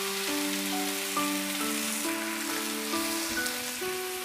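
Yellow croaker sizzles in a pan with salted pickled greens and dried bamboo shoots, a continuous crackling hiss like rain, steady and fairly close, with no voices.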